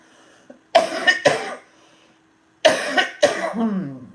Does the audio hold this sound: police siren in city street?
no